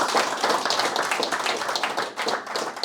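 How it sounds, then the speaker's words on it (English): A small audience at a business talk gives a quick round of applause, a close, steady patter of claps that runs the whole few seconds before thinning slightly near the end. "Everybody give him a good round of applause."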